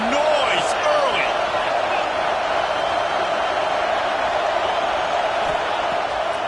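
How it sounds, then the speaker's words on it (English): A packed football stadium crowd at a Michigan game roars and cheers steadily and loudly throughout, a dense wall of noise with scattered voices and whistles mixed in. "This crowd bringing the energy and noise early."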